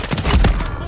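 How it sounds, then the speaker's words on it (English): Rapid burst of video game gunfire, loud and close, a quick volley of shots in under a second. "I'm getting shot from freaking factory."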